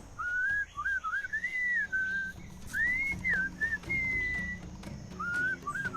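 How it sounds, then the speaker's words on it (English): Melodic whistling from the Sam and Max Season Two episode Moai Better Blues, a bright, wavering tune in several close, clear phrases with short pauses between them, heard alone. "What is that enchanting whistling sound?"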